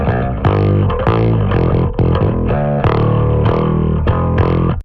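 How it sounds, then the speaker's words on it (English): Heavily distorted electric guitar in a 90s rap metal style, loud chugging riff with thick saturated tone and pronounced high mids, played alone in choppy rhythmic bursts with brief gaps between phrases. "The magic in this tone is really in the high mids and using the right type of distortion."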